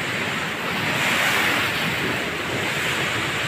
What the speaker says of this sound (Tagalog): Pumuputok-putok ang alon.